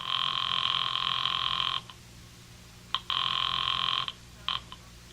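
A telephone rings in an old-time mystery radio drama: a long trilling bell, a pause, then two shorter bursts of ringing, clear and close with no talk over it.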